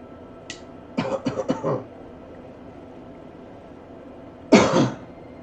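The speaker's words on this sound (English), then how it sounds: "Cough, cough, cough." Several short coughs in a quick cluster, followed after a pause by one louder, heavier cough, close to the microphone with no talking.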